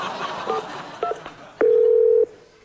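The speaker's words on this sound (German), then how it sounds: "der alles entscheidende Anruf vom Produzenten kommt" Telephone keypad tones beep in a short run, then a single steady ringback or dial tone holds for about half a second before the call connects, with no talking over it.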